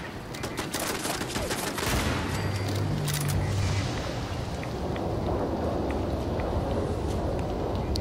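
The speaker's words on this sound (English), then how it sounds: "This is a rad storm." Thunder rumbles and cracks during a radiation storm in the video game Fallout 4, a steady loud roar with sharp bursts early on and heavy rumble through the middle, alongside scattered gunfire-like crackles.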